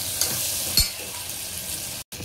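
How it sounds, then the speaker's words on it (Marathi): Chopped tomato and onion fry in a pan, a steady close hiss of sizzling with a couple of faint stirring clinks, cut by a momentary drop near the end. "आता आपण त्याच्यामध्ये जो टोमॅटो बारीक केला आहे तो ऍड करणार आहोत आणि कांदा आणि टोमॅटो व्यवस्थित परतून घेणार आहोत"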